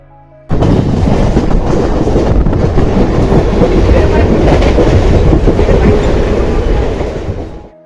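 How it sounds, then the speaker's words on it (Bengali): A Mumbai local train pulls into Churchgate station with a loud, continuous rumbling clatter of wheels and carriages that fades slightly at the end. "এই যে ট্রেন এসে পৌঁছে গেছে চার্চ গেট স্টেশনে।"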